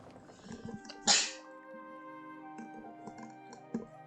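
A single sharp sneeze bursts out near the start, loud and close, followed by soft keyboard typing and faint clicks.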